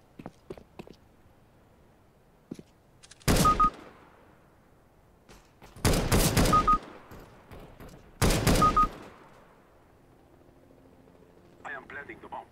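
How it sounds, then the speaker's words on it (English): Three bursts of rapid gunfire from a player firing into the air in Counter-Strike: Global Offensive, each lasting under a second and spaced a few seconds apart, loud against a quiet game background. "He's shooting up in the air."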